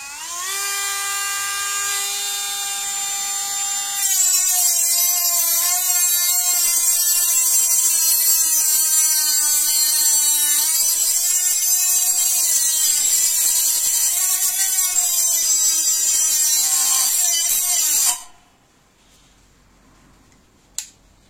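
A cordless POPOMAN rotary multi-tool fitted with a cutting blade gives a loud, steady high-pitched whine that shifts in pitch as the blade bites, runs for about eighteen seconds, then cuts off into near silence with one small clack.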